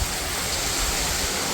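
Heavy rain pours steadily with wind during Typhoon Enteng, a dense continuous broadband rush filling the whole moment with no voices, loud and close like downpour on nearby surfaces.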